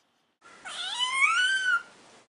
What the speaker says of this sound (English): Their voice box. Their communication methods. The meow.